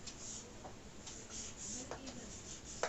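Pen or marker strokes scratch across a board in short, repeated bursts, fairly quiet and close, with no one talking.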